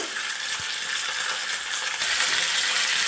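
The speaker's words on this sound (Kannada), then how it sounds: "ಈಗ ಸ್ವಲ್ಪ ಈರುಳ್ಳಿ, ಕರಿಬೇವು ಒಟ್ಟಿಗೆ ಸೇರಿಸಿ ಹಾಕಿದ್ದೀನಿ. ಫ್ರೈ ಮಾಡ್ಕೊಬೇಕು ಒಂದು ಸ್ವಲ್ಪ ಹೊತ್ತು." Onion and curry leaves sizzle and fry alongside peanuts in a hot pan, a steady close crackling hiss with faint stirring and no voices.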